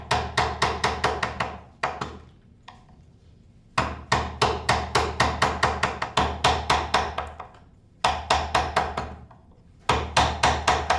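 Carver's chisel being struck to carve wooden gingerbread moulds: close, loud, sharp knocking blows in rapid rhythmic bursts of about eight to ten strikes, separated by short pauses.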